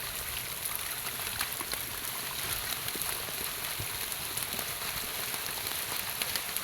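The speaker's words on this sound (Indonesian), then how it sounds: "Dan ini tuh hujan deras banget guys." Heavy rain falls on the muddy, slippery Mount Prau hiking trail as a soft, continuous hiss of drops and trickling water, steady and fairly faint, with no one talking.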